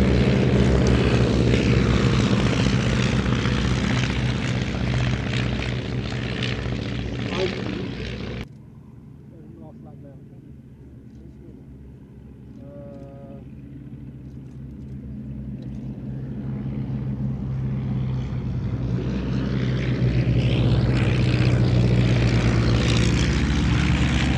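Vintage propeller aircraft racing at the Shuttleworth air show, roaring loudly past close by, then dropping away to a distant drone before building again to a near roar, with an announcer talking over it.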